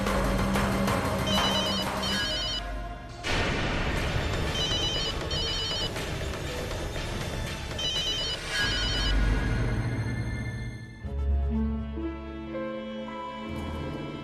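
A telephone rings repeatedly with no answer, bursts of bright ringing repeating over a loud dramatic music bed that swells and drops away near the end.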